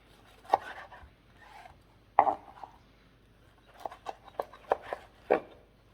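A knife cutting through cooked steak on a board makes a few separate thuds and scrapes, then a quicker run of short taps, close and moderately loud against a quiet background.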